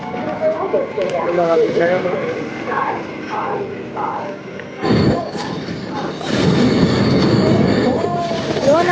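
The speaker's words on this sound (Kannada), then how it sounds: "ನಮ್ಮ ಟ್ರೈನ್ ಮೂವ್ ಆಗ್ತಾ ಇದೆ" A train pulling out of Pune Junction rumbles close by, heard from a general coach, with a rising metallic hum and clatter as people talk over it.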